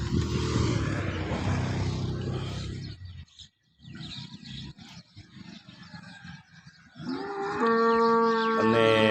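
Several cows moo loudly in turn, long deep lowing calls with a brief quiet gap between, close by in a barn.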